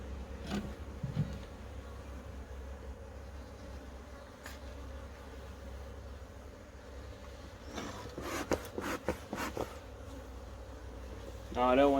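A constant buzzing hum of many honeybees flying around a hive, with a few louder passes close by and a brief human sound near the end.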